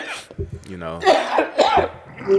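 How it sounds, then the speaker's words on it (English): A single sharp cough close to the microphone, then a person speaking and coughing lightly through the words. "I got this terrible cough"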